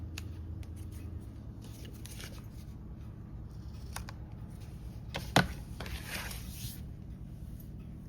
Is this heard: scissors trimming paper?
yes